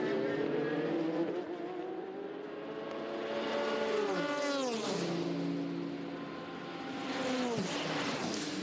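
Le Mans prototype and GT race cars at the 24 Hours of Le Mans in 2016, engines sweeping past one after another with rising and falling pitch, loud and continuous, several distinct passes over nearly nine seconds with no talk.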